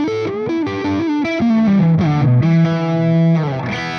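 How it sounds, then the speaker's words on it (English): Distorted electric guitar plays a melodic line with shifting notes, each phrase trailing into echoing repeats from an MXR Carbon Copy tape-style delay pedal. "So we got some tape delay from the MXR carbon copy."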